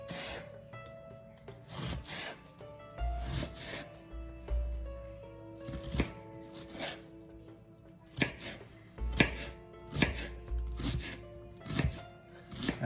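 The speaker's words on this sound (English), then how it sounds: "So we're cutting the onions" Knife chopping onions on a wooden board for shakshuka, a series of irregular dull thuds and rubbing scrapes at close range, with kitchen background noise and no talk.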